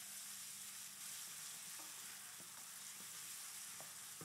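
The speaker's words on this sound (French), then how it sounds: "quand c'est chaud, je mets mes oignons ciselés" Finely chopped onions sizzle in hot olive oil for a risotto base, a soft, even, steady hiss with a few faint utensil taps, fairly quiet and with no voices.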